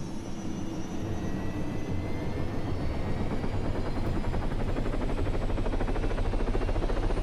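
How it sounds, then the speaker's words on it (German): A helicopter in the game Altis Life drones with a steady rotor and engine roar, its faint rhythmic chopping beat holding constant and fairly loud throughout, with no one talking. "Hubschrauber-Einsatz, Hubschrauber-Einsatz, na, Hubschrauber-Einsatz"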